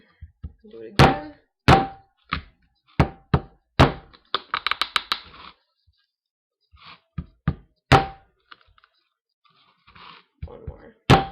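Butt of a kitchen knife knocking against a broccoli stalk to twist it loose, a series of sharp, close thunks spaced irregularly, with a quick rattling patter in the middle.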